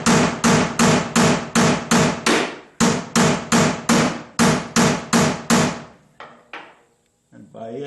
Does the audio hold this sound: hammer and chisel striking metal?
yes